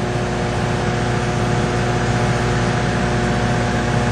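A Wayne Machine and Die laboratory extruder with three heating zones and blower motors runs steadily, a loud continuous mechanical hum with tonal motor whine, unbroken throughout and without voices.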